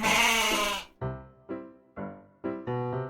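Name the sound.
goat bleating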